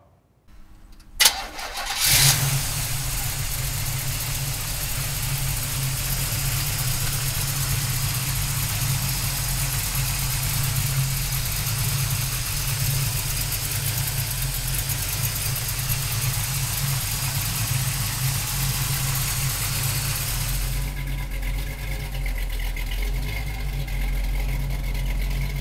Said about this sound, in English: let's fire this Camaro up.